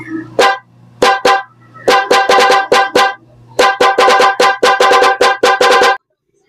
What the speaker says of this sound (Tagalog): Try mo tong Night 3 Plus Pro Music Horn Relay.